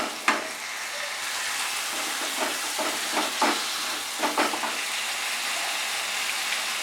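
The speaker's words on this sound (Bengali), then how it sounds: "চিংড়ি মাছটা দিয়ে আমি এটাকে হাই ফ্লেমে কষিয়ে নেব আরো 2 মিনিট।" Prawns sauté in a pan over high flame, a steady close sizzle with intermittent scraping stirs and soft clatter.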